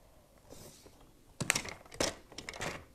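Pen tapping and scratching on a surface while marking reference points for a craft vase project, giving a few short, close clicks and scrapes with quiet gaps between them.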